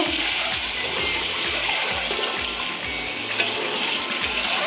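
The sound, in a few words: eggs frying and being stirred in a pan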